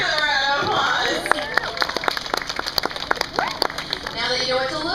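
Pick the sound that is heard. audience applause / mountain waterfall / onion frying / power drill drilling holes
audience applause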